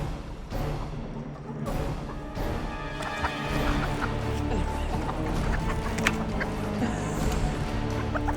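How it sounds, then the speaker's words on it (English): A flock of chickens squabbles over a hot dog in a backyard garden, filling the air with continuous clucking, squawks and scuffling close by. "The chickens fight over a hot dog."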